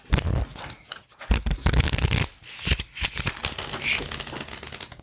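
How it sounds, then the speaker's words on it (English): A deck of playing cards is shuffled up close, with loud riffling bursts and soft slaps repeating in quick, uneven runs over a few seconds. "And then we shuffle these up."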